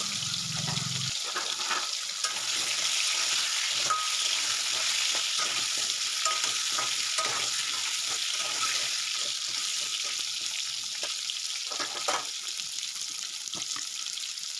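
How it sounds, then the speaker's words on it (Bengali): Diced potato cubes frying in oil in a pan give a steady, dense sizzle and crackle that runs throughout, close and even, with occasional light stirring clicks. "সেই ডুমো করে কেটে রাখা আলুগুলো এখানে ভেজে নেব আর লালচে করে এটা ভেজে নিতে হবে"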